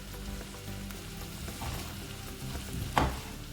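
Chili peppers frying in a hot pan with garlic, a steady crackling sizzle with a louder spitting burst near the end, close and alone without talk.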